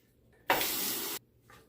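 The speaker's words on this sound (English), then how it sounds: "go ahead and rinse the razor." A razor is rinsed under a running tap, a short close burst of gushing water that starts abruptly and stops after under a second, with quiet room noise before and after.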